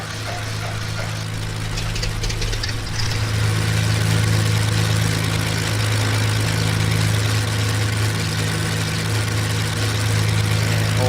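Left piston engine of a Beechcraft Duke B60 starting in a flight simulator, a steady loud droning rumble with low harmonic hum that swells after a few seconds and settles into an even idle, no voices.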